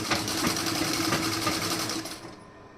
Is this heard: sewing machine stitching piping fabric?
yes